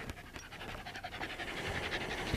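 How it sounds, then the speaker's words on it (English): A dog pants heavily and steadily nearby, quick rhythmic breaths filling the short stretch without any talking. "I have a dog that's breathing heavily"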